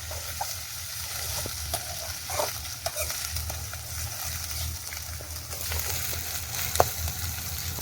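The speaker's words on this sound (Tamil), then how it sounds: "தக்காளி சேர்த்து வதக்கிக்கலாம்" Tomatoes sauté in a pan for crab masala with a steady crackling sizzle, punctuated by soft clicks and scrapes of stirring, close and moderately quiet, with no talking.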